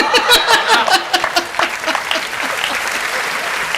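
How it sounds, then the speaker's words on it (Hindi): An audience at a Hindi poetry recital claps loudly in a dense burst that gradually thins and fades over a few seconds. "आप ढंग से सुनेंगे, ताली वाली बजाएंगे तो ठीक है"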